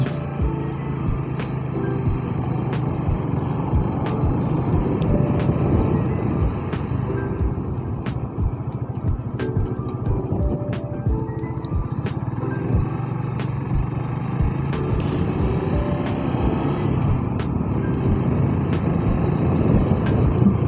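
Honda Sonic 150R motorcycle engine warming up: a steady idling hum with a faint ticking rhythm, continuous and fairly quiet throughout, with no voices.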